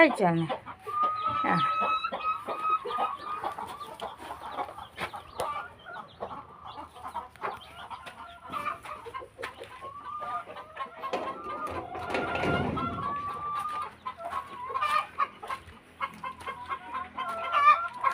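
Chickens at a poultry farm cluck and squawk in irregular bursts throughout, with louder flurries of activity midway and a busy flock ambience around them.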